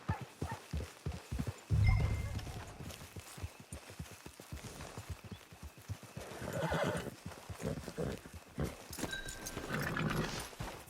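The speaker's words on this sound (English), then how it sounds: "Get your horse." Horse hooves clip-clop in a quick rhythmic trot in the Red Dead Redemption Online video game, with loud whinnies and neighs breaking in, close and clear, then the hoofbeats slow and return amid ambient game sound.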